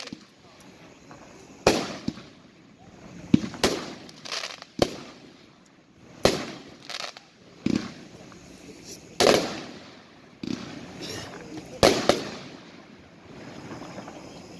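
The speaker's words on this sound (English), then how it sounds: "Cutting Edges American Force, a 16-10 shot, 200 grand cake" A Cutting Edge American Force 200-gram firework cake fires its shots one after another, sharp booming bursts spaced a second or so apart, echoing outdoors with faint voices between reports.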